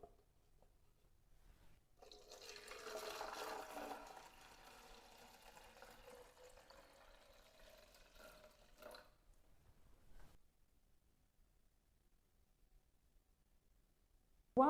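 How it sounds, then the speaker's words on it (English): Water trickling slowly from a plastic bottle with a toothpick-regulated hole into a shrimp tank, a soft steady pouring and splashing that runs for several seconds and then thins out to quiet. "I add the water back in very slowly"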